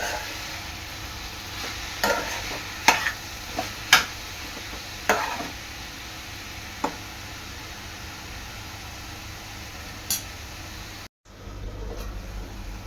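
Carrot halwa is stirred in a pan, with a low sizzle and a steady hiss running under scattered spoon scrapes and taps. The taps come at irregular intervals, and a brief dropout occurs near the end.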